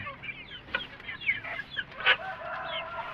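Rhode Island chicks and grown backyard chickens cluck and peep in a quick, irregular series of short calls, close by and moderately loud, with no talking.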